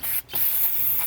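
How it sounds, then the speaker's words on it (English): A loud, steady aerosol spray of carburetor cleaner hisses close by on a VW GTI MK7 intake, stopping briefly for a moment before resuming in a continuous burst. "Spray some more carb clean"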